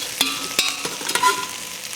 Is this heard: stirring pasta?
yes